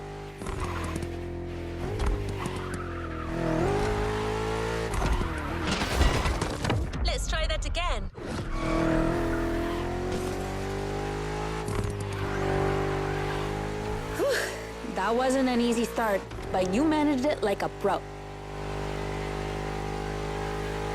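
A BMW M5 F90 CS racing through traffic in The Crew Motorfest, its engine droning and shifting pitch steadily beneath a voice talking over nearly the whole run.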